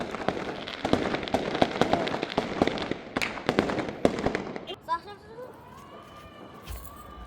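Firecrackers set off on Eid eve, a rapid string of sharp, loud cracks and pops for several seconds, then fizzing, whistling sparks, with voices talking and exclaiming around them.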